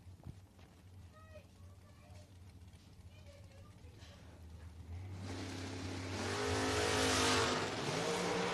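Drag racing cars at a bracket event, a Mustang among them, idle and then launch with a loud rising roar of revving engines that swells and holds near the end, heard under a track announcer's commentary.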